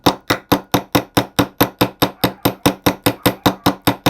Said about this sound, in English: you're going to take your hammer, flat side of your hammer